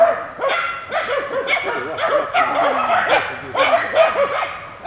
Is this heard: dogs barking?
yes